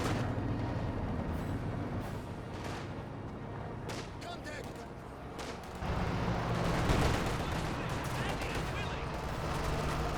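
Distant battlefield fire in Company of Heroes 2, a steady rumble of rifle and artillery shots rolling under a caster's voice, swelling louder in the second half as conscripts come under fire.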